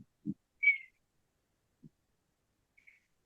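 A clear whistled phrase imitating an oriole's song, a short bright note followed by a faint echoing whistle, with a few soft low thumps between.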